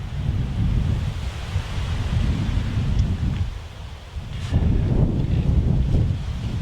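Wind buffets the microphone beside the Warwickshire Avon river early in the morning as a continuous, heavy, low rumble with a brief lull midway before it surges again.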